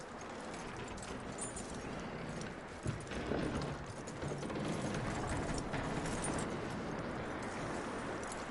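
A horse's hooves clip-clop steadily across the ground in Red Dead Redemption 2, a continuous moderate rhythm of footfalls over a soft outdoor background, with no talking.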